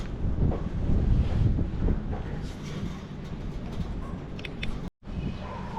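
Steady wind gusting against the microphone while foam is laid over roof trusses, a broad low rumble rising and easing, with a brief dropout near the end.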